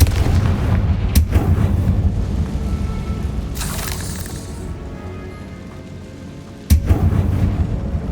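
The Confringo blasting spell explodes in Hogwarts Legacy inside a tomb, deep booming rumbles with a sharp crack early and another late, loud and close over low ambient drone.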